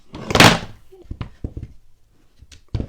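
A loud clattering crash of objects tumbling, followed by several sharp knocks and thuds as more things drop and settle.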